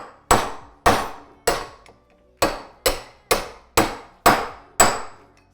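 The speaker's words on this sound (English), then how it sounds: "We're going to drive our bearing down into where it needs to be seated." Sharp metallic hammer strikes drive a bearing into a 1993 Honda CR250 rear wheel hub, about nine hits with a short pause partway through, loud and close with quick ringing decays.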